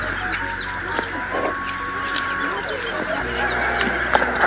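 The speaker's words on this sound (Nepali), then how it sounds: "आफै पालेको कुखुरा, लोकल कुखुरा चाहिँ चल्ला भयो." Local backyard chickens raised in a Nepali village cluck at close range. Soft, repeated clucks come through over steady outdoor background noise, and a voice talks now and then.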